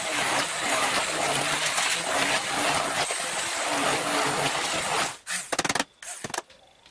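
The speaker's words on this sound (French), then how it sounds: "passer tous les légumes au mixeur" A hand blender purees cooked vegetables for soup with a loud, steady whir for about five seconds, then cuts out, leaving a few knocks and clatters.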